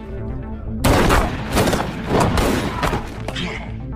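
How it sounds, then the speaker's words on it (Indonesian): Gunfire of rubber bullets fired at a prisoner in a film scene, heard as a loud, dense burst of rapid shots and booming impacts lasting several seconds with brief swells and dips. "Ia pun lantas menugaskan anak buahnya untuk menembak Porter dengan peluru karet"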